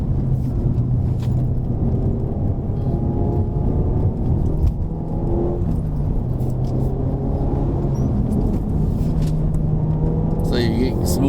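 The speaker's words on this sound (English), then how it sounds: "just before you release the pedal, you need to blip the throttle" A car engine idles and rumbles inside the cabin during a heel-and-toe downshift with rev matching, its pitch rising and falling in short throttle blips, while an instructor talks over it.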